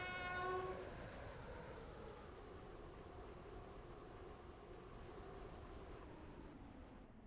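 Train horn sounding as a train pulls into a station in the Stepford County Railway video game, a brief loud blast fading into steady rolling rail rumble.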